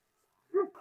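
A male dog, a huge shepherd breed, gives a single short yelping bark close by after a moment of silence, followed by a softer trailing whine.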